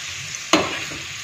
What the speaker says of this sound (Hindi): इसको हम इसी मसाले के साथ कुक करेंगे